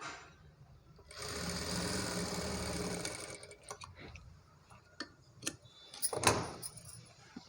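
Sewing machine stitching lining cloth onto the main fabric of a long frock made from a saree, a steady whirring run of about two seconds followed by short bursts, clicks and handling taps.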